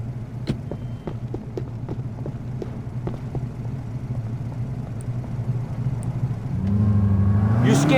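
Steady engine hum of a car driven in GTA 4, with a low throbbing drone throughout that swells and revs louder near the end, and short ticking clicks scattered over it.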